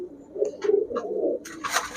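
High-flyer giribaj pigeons coo at a shop in short throaty bursts, with a few brighter rustling or flapping noises near the end, close by and without talk.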